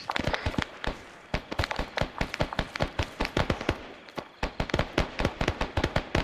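Dense bursts of rapid gunfire crackle through a Vietnam War video game, with sharp, loud shots in quick overlapping volleys that pause briefly before resuming.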